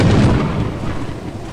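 Lightning strike thunder from the Lethal Company video game, a loud, dense low rumble that starts strongest and rolls on steadily for a moment without fading much, with no talking over it.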